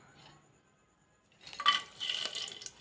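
Whole spices, cardamom, cloves, cinnamon and a bay leaf, drop into hot ghee, and after a quiet start a faint sizzling crackle with small pops rises and keeps going near by.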